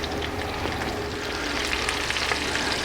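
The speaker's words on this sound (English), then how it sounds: "We're just looking for kind of a quick sear and then a flip." Alaskan halibut fillets searing in a hot frying pan, giving a dense, steady sizzle and crackle throughout, close and loud with no talking.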